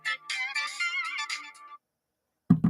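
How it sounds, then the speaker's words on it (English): Phone ringtone plays a short bright melodic tune of several quick notes, then stops; after a brief silence a sharp low thump follows near the end. "You guys not hear the phone ringing?"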